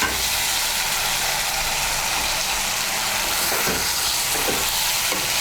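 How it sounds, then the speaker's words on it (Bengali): Fried eggs go into a pan of spice masala for egg curry, setting off a loud, steady sizzle and frying crackle that runs the whole time, with a few scraping stir sounds near the end. "এখন আমি এর মধ্যে দিয়ে দেবো ভেজে রাখা ডিমগুলো।"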